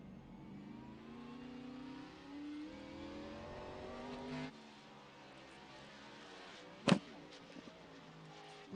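Race cars circling the road course at Sonoma during a club racing round, weaving through slower lapped traffic; a steady mid-distance engine drone rises and shifts, drops off midway, and a sharp brief burst follows near the end.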